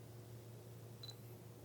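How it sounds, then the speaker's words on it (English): Fujifilm FinePix F800EXR compact camera taking a snapshot: one faint, short electronic shutter chirp over a quiet low hum, alone without talk. "To take a picture, of course, you push the shutter button, and it takes a snapshot."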